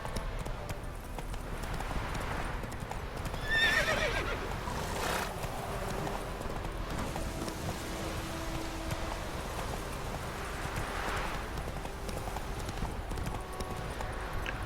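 Roach the horse neighs and clip-clops at a gallop in The Witcher 3, hoofbeats running steadily throughout with a whinny near the middle, under game ambience.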